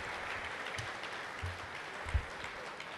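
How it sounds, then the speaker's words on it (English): Audience applause for a choir at an NYPD High Holy Days briefing, a steady broad wash of clapping throughout with no talk. "How about another round of applause for the Shira Choir, ladies and gentlemen?"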